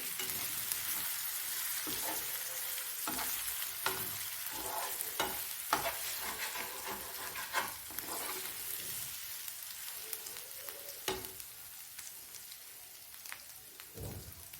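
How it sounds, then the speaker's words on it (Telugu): Small fish curry simmering in a pan with gentle stirring, a steady bubbling sizzle under repeated soft scraping strokes of a spoon, no voices, close and continuous. "చిన్న చిన్న చేపలు కదా తొందరగా విరిగిపోతాయి కొంచెం నిదానంగానే కలుపుకోండి"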